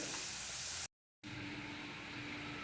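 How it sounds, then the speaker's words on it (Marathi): Sliced onion sautés in a large spoonful of hot oil, cooking toward golden, giving a close, steady sizzle that cuts out for a moment before resuming just as evenly. "तेलात आता आपण कांदा परतून घेऊया कांदा गोल्डन होईपर्यंत आपल्याला चांगला परतून घ्यायचा आहे"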